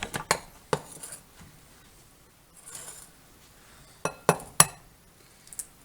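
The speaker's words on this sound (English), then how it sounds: "We're going to mix the eggs in a bowl, along with a little bit of milk." Eggs and a little milk mixed in a glass bowl: sharp, bright clinks of a utensil striking glass come in small clusters, with quieter stirring in between and near-silent gaps.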